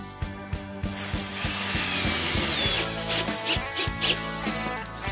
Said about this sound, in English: And then we'll put some additional screws in.